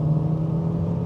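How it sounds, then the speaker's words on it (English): A turbocharged K11 Micra small hatchback engine drones steadily at close range, a constant low hum with a faint whirring overtone from the turbo spooling, no voices. "Just listen to it. Just listen to the turbo spools."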